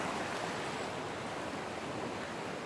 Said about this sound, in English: That's looking at the flowing water.